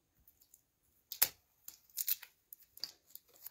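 Scissors snipping through quilt fabric strips in a few separate crisp cuts and rustles, close and fairly quiet, with brief pauses between them.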